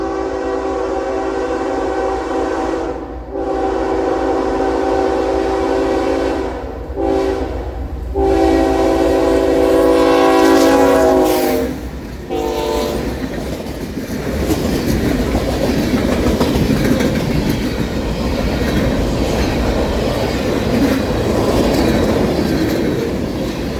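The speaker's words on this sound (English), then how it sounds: "NS 385 would be the first southbound and was led by UP" Norfolk Southern freight train NS 385, led by UP 2757, passes southbound through Dickinson, Alabama. Strong horn blasts sound over a steady rumble, then the horn stops and wheels clatter and roll on continuously and loudly.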